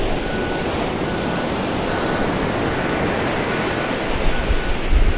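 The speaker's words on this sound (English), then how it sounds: "this is the local beach. I think it's coming up to high tide." Ocean surf rolls steadily onto a local Australian beach near high tide, a continuous broad wash of waves with no voices.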